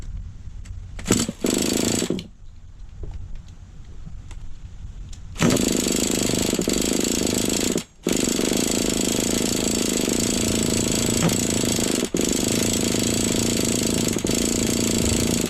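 A Force .32 nitro engine in a Savage XL RC truck with a faulty, sticking throttle runs loudly and close, sputtering briefly, then holding a steady buzzing roar with a few sudden cutouts.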